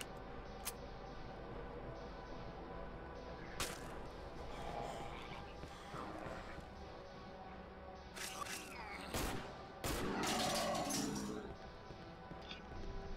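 Gunfire in the horror video game Cry of Fear, a few sharp separate shots standing out over a steady background hum and game noise.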